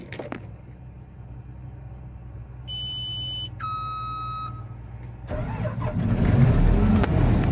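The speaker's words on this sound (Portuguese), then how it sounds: "Vamos ver se vai dar partida." A vehicle engine started with a key: two electronic warning tones chime first, then the engine cranks and catches, running louder and rougher through to the end, with no talk.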